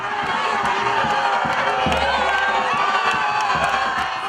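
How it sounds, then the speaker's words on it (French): Congolese community crowd in Côte d'Ivoire cheering and shouting outside an airport as the presidential couple greets them, a steady, dense roar of voices and whoops throughout with scattered children's shouts. "À la sortie de l'aéroport, le couple présidentiel s'est offert un bain de foule avec la communauté congolaise vivant en Côte"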